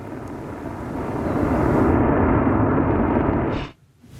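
Fighter jets fly past with a loud, broad jet roar that swells over a few seconds, holds steady, then cuts off abruptly. No one speaks.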